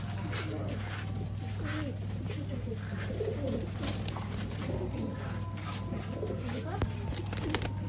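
Red dasta pigeons offered for sale in Bangalore coo repeatedly in soft, throaty bursts over a steady low hum, with faint rustling and the occasional wing flutter nearby.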